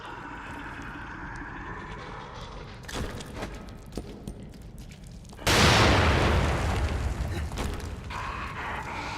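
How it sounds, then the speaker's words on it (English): A grenade detonates in The Evil Within, a sudden loud burst about midway that leaves a broad rumbling roar after a stretch of low game ambience and scattered clicks, with no talking. "Okay, I'm gonna load up a grenade here."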